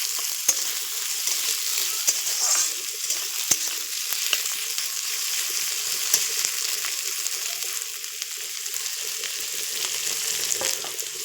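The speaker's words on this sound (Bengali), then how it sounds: "তারপরে আলুটা দিয়ে দিলাম, দিয়ে একটুখানি ভালো করে ভাজা ভাজা করে নেব।" Potato pieces fry in a hot pan with a steady, close sizzle, dense crackle and occasional sharp pops, with no talking over it.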